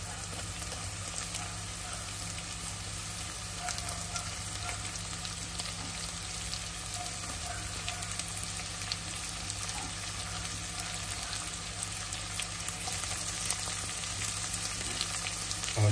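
Chopped onions frying in a pan for a Kuttanadan-style clam roast, a steady close sizzle that holds evenly throughout, with faint stirring scrapes now and then and no talk.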